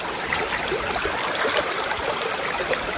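A fast-flowing current in a wilderness brook trout stream in Pennsylvania, a steady broadband rushing and gurgling wash that stays even and close with no talk.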